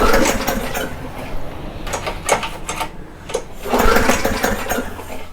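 Small Briggs and Stratton flat head engine running steadily close by with a continuous buzzing drone, alone with no talk.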